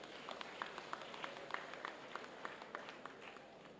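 Audience applause at a university convocation ceremony, a steady wash of many hands clapping at a moderate distance with a few sharper claps standing out, no speech over it.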